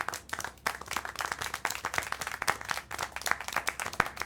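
Steady, fairly quiet hand clapping from a single character in the game Syberia: The World Before, sharp regular claps repeating for several seconds without speech.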